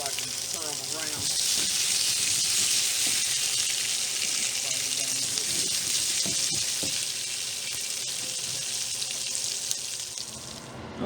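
Pieces of meatloaf brown in a hot frying pan with a steady, loud sizzle, broken now and then by light stirring and scraping sounds.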